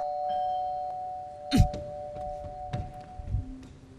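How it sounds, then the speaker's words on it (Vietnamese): An indoor doorbell sounds once as a short, bright chime, followed by a few soft thumps and knocks against a quiet background hum. "sao anh bấm chuông hoài mà em không ra em mở cửa?"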